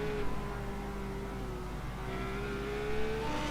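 GT3 race cars in a racing video game run through the chicane at Oulton Park, their engines holding a steady, droning whine whose pitch dips and climbs as they brake and power out, alone without commentary.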